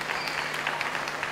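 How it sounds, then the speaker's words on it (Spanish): Audience applause for a soprano at a town festival proclamation event, a moderate, steady patter of many hands clapping, somewhat distant and continuous through the short clip. "un fuerte aplauso para ella"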